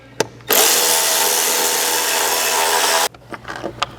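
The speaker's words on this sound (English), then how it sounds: "Using the 4 factory T30 Torx bolts, we're going to reinstall them on the lid, securing it to the airbox." Power driver whirs steadily for about two and a half seconds as it tightens a factory T30 Torx bolt on the airbox lid of a 2021+ Ford Bronco's Roush intake. A few small clicks and taps follow.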